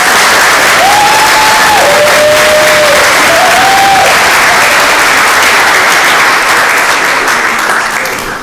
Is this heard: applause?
yes